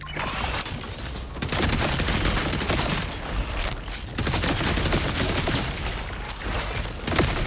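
Dense, continuous gunfire from the Borderlands video game, rapid automatic shots and booms layered into a loud, unbroken barrage with brief lulls.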